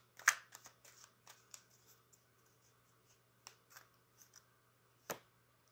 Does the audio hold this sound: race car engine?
no